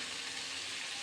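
A brief, quiet, unbroken frying hiss comes from onions and eggplant cooking together in a pan for badnekai palya, with no voices or stirring sounds.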